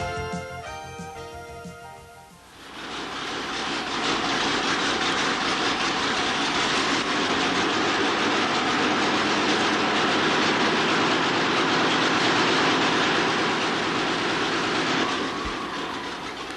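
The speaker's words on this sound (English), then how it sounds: "Let's take a moment and listen to the Dynacam engine." A powerful Dynacam twelve-cylinder cam engine roars up after a brief quieter start, then runs loud and steady with a dense, throbbing mechanical rumble.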